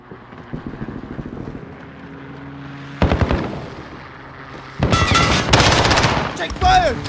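Gunfire in Call of Duty: Modern Warfare, starting as distant rattling under game ambience and then breaking into loud, close bursts near the end.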